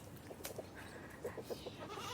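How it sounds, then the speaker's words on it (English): Goats on a small farm bleating, several short, fairly faint calls scattered over a quiet outdoor background with no talking. "You can come and check out my goats."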